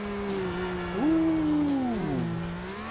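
A car driven in the video game GTA IV, its engine droning with pitch rising and falling as it revs and shifts, steady and fairly close with no voices.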